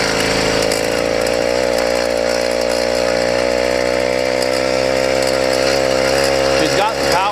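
A Yamaha YD100 two-stroke engine with a ramped piston runs loud and close at a steady buzzing idle, holding a raspy drone throughout with a slight waver near the end.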